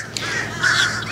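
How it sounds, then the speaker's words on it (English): Crows caw loudly amid other birds calling outdoors, a dense, continuous chorus of harsh calls without any talking. "these birds going crazy for the next 4 minutes"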